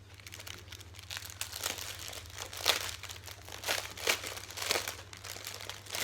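Plastic packaging crinkles and crumples during an unboxing, with soft rustling that swells into several sharper crackling bursts close to the microphone.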